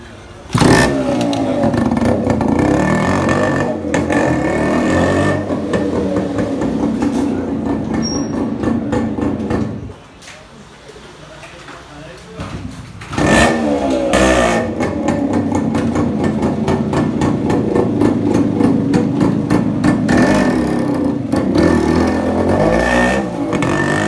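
A Yamaha RX100 motorcycle engine runs loud and close, a rough two-stroke drone with repeated revs, briefly dropping to a quieter idle midway before picking up again.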